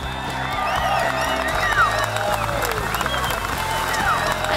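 A crowd at a sailing match race in Marstrand applauds and cheers steadily for the champion and his crew, a dense, even wash of clapping with whoops rising above it.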